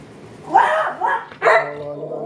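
Dog barking indoors while wanting to go outside, giving three close, loud, whiny barks in quick succession, the last one trailing off into a whimpering tone.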